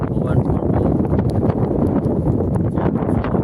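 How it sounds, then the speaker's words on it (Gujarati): Strong wind roars and buffets the microphone in a steady, gusty rumble during heavy rain, with a voice speaking at times. "પવન રાતનો 12 વાગ્યાનો પવન કન્ટિન્યુ ચાલુ છે."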